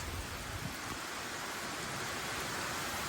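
Steady, dense wash of heavy typhoon rain from Typhoon Goring, a constant roar of falling water with strong low rumble like wind buffeting, no voices.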